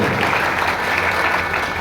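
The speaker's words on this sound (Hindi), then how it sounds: "जोरदार ताली बजाकर स्वागत करें" An audience at a village Bhagavat Katha religious gathering claps loudly and continuously to welcome a family, a dense, even wash of applause throughout with no talk.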